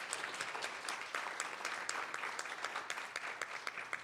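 An audience at a county board meeting applauds a student who took first place, a sustained round of clapping with distinct sharp claps standing out through the wash, fairly quiet and without speech.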